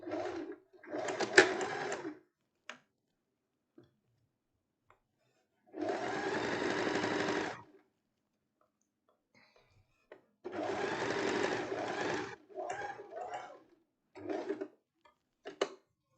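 Sewing machine running a topstitch on a blouse in short bursts, a few seconds of whirring stitching at a time separated by quiet gaps, close and clear.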